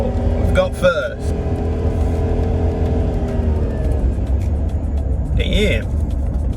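Car engine running in first gear on a sketchily repaired vehicle that is smoking, a loud steady rumble close by, with someone talking over it in short exclamations.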